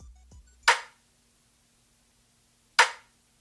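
Two separate snare drum hits run through a ProtoVERB reverb plugin, each a sharp crack followed by a short decaying tail, spaced about two seconds apart with silence between.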